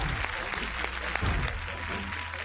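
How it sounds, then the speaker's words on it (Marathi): An audience claps for Sandeep on the set of a Marathi singing competition, steady applause with a few sharper individual claps standing out and faint voices mixed in. "मी उभा राहणार आहे आणि संदीप दादांकरता टाळ्या वाजवणार आहे."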